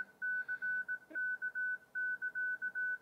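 Morse code CW signal on an amateur radio band, a single steady beep tone keyed on and off in a quick irregular rhythm over faint background hiss.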